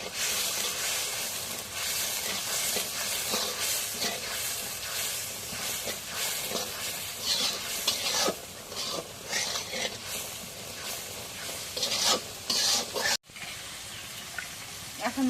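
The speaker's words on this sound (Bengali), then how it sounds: "এখন মশলাগুলো একটু নাড়া দিয়ে দিই" Chili powder, turmeric and spices fry in a pan with a continuous hiss and sizzle, stirred with scraping utensil sounds, close and moderate, while a person talks intermittently.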